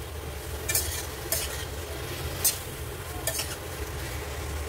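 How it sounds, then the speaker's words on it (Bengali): Hot water poured slowly into a pan of sizzling mutton with potatoes, a close steady hiss and sputter broken by a few sharp crackling bursts. "এইবার এখানে আস্তে আস্তে গরম জলটা দেবো"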